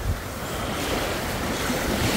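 Night sea waves wash onto the shore at Anapa as a steady, broadband surf rush with some wind noise, continuous and moderately loud throughout, with no voices.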